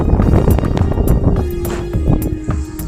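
Strong storm wind during heavy rainfall in a Himalayan village buffets the microphone with a loud, continuous roar, deep rumbling blasts and brief sharper gusts.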